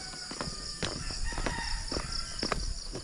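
Chickens clucking and a rooster crowing outdoors, several birds calling at irregular intervals over a low background hum.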